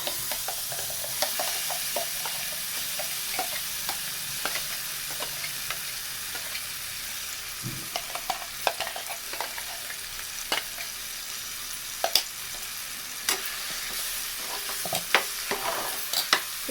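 Ground raw mango chutney paste frying in a spoonful of oil, a soft continuous sizzle with frequent scraping and clicking stirs of a spoon against the pan, no talking.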